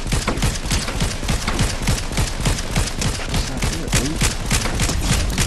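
Rapid automatic gunfire in a Fortnite match, dense continuous bursts of shots, loud and close, with no talking.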